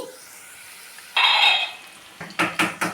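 Bitter gourd slices fry in a pan, a soft sizzle giving way to scraping and clinking of a utensil against the pan in several quick knocks toward the end.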